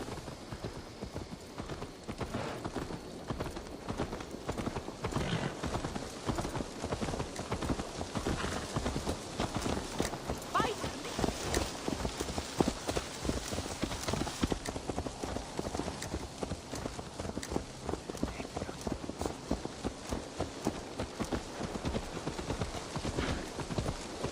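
Horse hooves clip-clop steadily and continuously in Assassin's Creed Valhalla, a dense rhythmic stream of close, moderately loud footfalls with faint background ambience and no talk.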